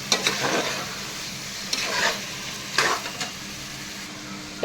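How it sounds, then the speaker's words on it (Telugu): Spice powders are stirred into a sheep-head curry cooking in a pan, with a low sizzle under a few distinct scraping strokes of a spoon against the pan, close and moderately quiet. "వీటిని కలిపేయాలి"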